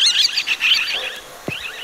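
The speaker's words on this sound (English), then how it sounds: "Parakeet." A parakeet gives rapid high chirps and twittering trills, fairly close and continuous, with a couple of brief soft clicks near the end.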